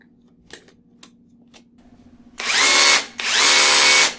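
A few light clicks and taps, then a power drill whirs loudly in two long bursts with a short pause between them, close by.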